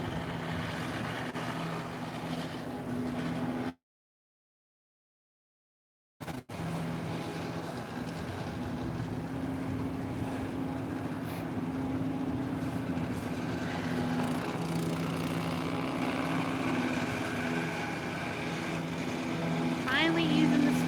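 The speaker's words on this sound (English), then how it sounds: "Finally using the snowblower." A Honda HSS928AT snowblower runs with a steady engine drone and the rush of churning snow, broken by a brief dropout of silence before the noise resumes and grows slightly louder.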